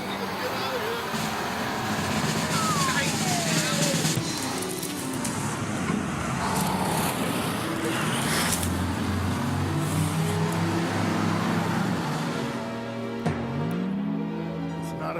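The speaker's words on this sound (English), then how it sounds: "This is the LVS, the Logistics Vehicle System. This is the Marine Corps' big dragon." Marine Corps LVS Logistics Vehicle System driving past, with a heavy diesel rumble and shifting engine tones that rise and fall, loud and steady throughout, with voices talking over it.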